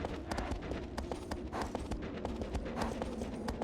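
Rapid rhythmic hoofbeats of a galloping horse climbing a mountain in the video game Shadow of the Colossus, close and steady, with a light background hum.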